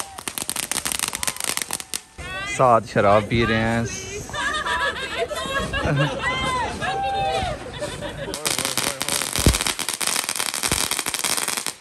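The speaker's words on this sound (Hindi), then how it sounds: "पटाखे तो उन्होंने चला लिए हैं जितने भी थे उनके पास" New Year firecrackers crackle and bang in sharp bursts at the start and end, with people talking and shouting loudly over a lively outdoor crowd in between.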